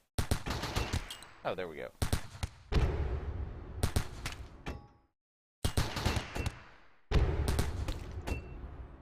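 An auto turret in RimWorld fires bursts of rapid automatic gunfire, loud bursts broken by brief pauses. Someone speaks briefly between bursts.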